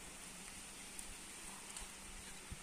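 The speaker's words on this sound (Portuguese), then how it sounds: "E veio a chuva." Soft, steady rain falls at a rural homestead where a house porch area is being built, a faint even hiss with a few scattered drop taps and no voices.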